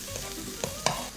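Bacon frying in a pan, its fat rendering out: a soft, even sizzle with two brief clicks or scrapes near the end, close and fairly quiet, no talking.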